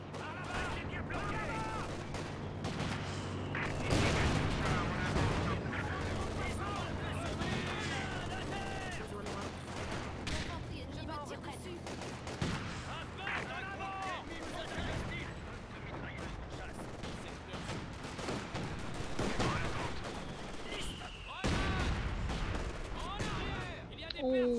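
Rifle and machine-gun fire from a Company of Heroes 2 battle, bursts and single cracks recurring throughout amid explosions, with someone talking over the fighting.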